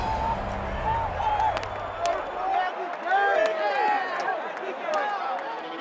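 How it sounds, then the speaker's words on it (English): Stadium crowd at a Steelers football game roars steadily, a dense, sustained wash of cheering voices with swells and occasional whistles, loud and continuous throughout. "Crowd up and roaring."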